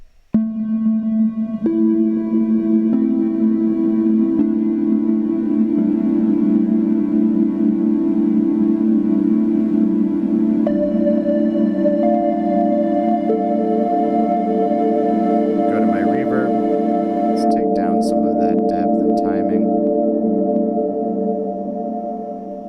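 A Korg NTS-1 synthesizer holds sustained tones that shift pitch in steps, washed in long reverb, with a few brief higher blips partway through.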